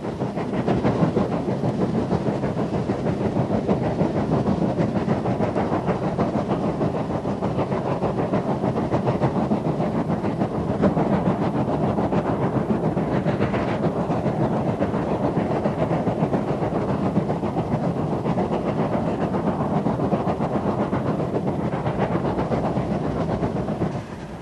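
A steam locomotive hauling a train across the African veldt, producing a loud, continuous rumbling roar with dense rhythmic chuffing and rolling noise, steady throughout without any speech.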